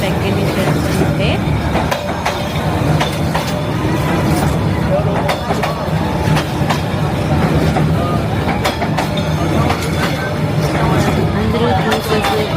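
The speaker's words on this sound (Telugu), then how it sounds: "ట్రైన్ వచ్చింది." A train rolls slowly past a street cafe at very close range, with loud sustained rumble, clanks and rhythmic clacking; people talk and chatter under the noise.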